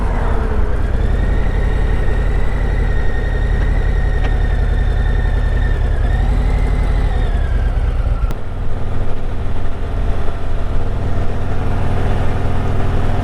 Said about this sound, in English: Very smooth motor, lots of power, all the power you'll ever need with this 117.